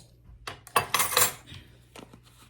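A quarter teaspoon of salt goes into a gallon container of saline solution, making a short burst of light metallic clinks and rattles, close and fairly quiet, with brief taps afterward.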